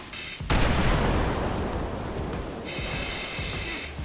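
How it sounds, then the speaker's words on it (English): Burning cars explode in a hazmat fire in GTA 5: a sudden loud blast hits after half a second and trails into a long crackling, rumbling roar, with a steady high hiss behind it. "we still have a lot of explosions, so those are probably all the cars going off"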